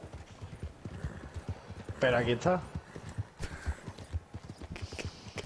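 Horse hooves clip-clop steadily in the online Western game Red Dead Online, with a whinny partway through, all mixed under ongoing conversation between players.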